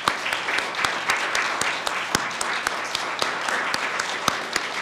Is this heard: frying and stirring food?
no